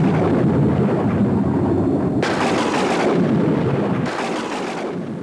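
Thunder from lightning rolls and crackles in loud, broad bursts, with sharp renewed cracks about two seconds in and again near four seconds before fading.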